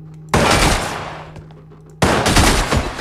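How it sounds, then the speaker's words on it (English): Loud bursts of gunfire in the first-person shooter game Receiver, with two close, sharp onsets about two seconds apart, each followed by dense sustained noise, and no talking. "I'm just gonna shoot this guy"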